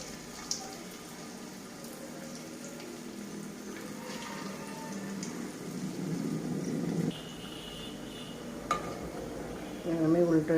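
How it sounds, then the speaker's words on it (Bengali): Spinach fritters slide one by one into hot oil in a pan, a steady close sizzle and bubbling that swells in the middle, with a few sharp clinks of utensils against the pan. "তেল গরম হয়ে গেছে, এবার আমি চপগুলো দিয়ে দেবো একটা একটা করে"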